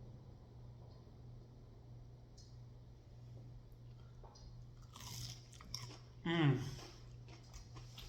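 Fried boudin and hush puppies are bitten and chewed up close, with soft mouth sounds building to a sharp crunchy bite near the end, and a brief murmur of appreciation.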